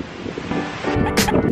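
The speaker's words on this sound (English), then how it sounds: "It's so windy." Wind gusting outdoors with broadband rumble and microphone buffeting, strengthening toward the end, while a voice speaks faintly underneath.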